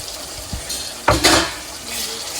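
Ginger paste and gongura leaves get stirred in a pan for a prawn fry, a spoon scraping and knocking against the metal with a soft background sizzle, close up and brief.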